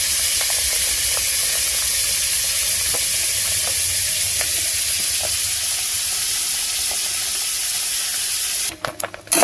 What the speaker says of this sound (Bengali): আমার কড়াইতে তেল দিয়েছি, তেলটাও গরম হয়ে গেছে। তো পটলটা আবার ভেজে নেব।